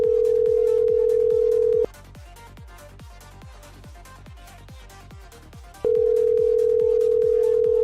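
A phone call ringing out before reaching voicemail, with two long steady ring tones separated by a quiet gap, all over a rhythmic thumping music beat.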